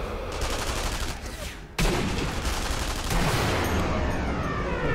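Dense, continuous crackling gunfire from the game Sniper Elite V2 fills the scene, with a heavy rifle shot punching in midway that leaves the barrage louder and fuller afterward.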